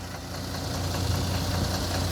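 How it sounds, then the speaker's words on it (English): A Volvo B7RLE single-deck bus from 2012 with a 7 litre Volvo engine and ZF automatic gearbox, idling steadily with a low, even diesel rumble close by and no talk. "Under the bonnet, 7 litre Volvo engine that's driven through a ZF fully automatic gearbox."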